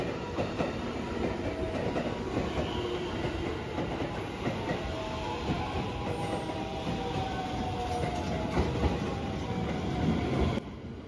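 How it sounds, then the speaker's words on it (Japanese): Shirasagi limited express train, nine cars, arriving at Maibara station in Japan, a steady loud rumble of wheels and clattering rail joints rolling past, occasional faint squeals, no voices. "特急白崎号がやってまいりました。"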